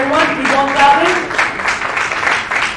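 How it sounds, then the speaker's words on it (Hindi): An audience applauds at a cricket player auction event, a lively spread of clapping mixed with voices throughout the short span. "Please everyone, keep on clapping."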